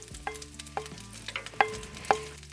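Garlic, celery, purple onion and tomato cook down in a pan for seafood paella over charcoal, with a soft sizzle broken by a few sharp metallic clinks of a stirring spoon against the pan.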